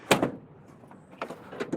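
Rear barn-style cargo doors on a 2020 Ford Transit 350 van clunk and rattle open, a sharp latch release followed by further metallic knocks a second later, close by.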